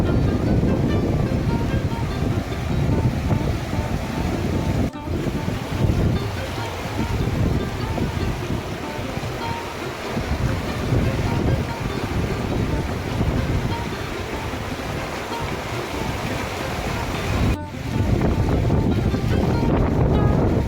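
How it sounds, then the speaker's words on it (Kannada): Tungabhadra river floodwater rushing past the bathing ghat in front of the Virupaksha temple at Hampi during the monsoon, a loud, steady roaring wash of water with wind buffeting the microphone and people talking. "ನೀರಿನ ರಭಸ ನೋಡಿ ಇಲ್ಲಿ ಯಾವ ರೀತಿ ಇದೆ."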